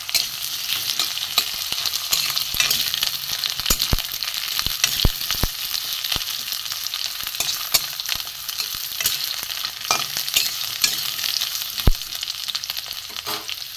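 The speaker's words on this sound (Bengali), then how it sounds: "আলুগুলো একটু ভেজে ভেজে নেবো ভালো করে লাল করে ভেজে নেবো" Potato pieces frying in a pan until reddened, a constant close sizzle with frequent sharp stirring clatters of a spatula against the metal, no voices.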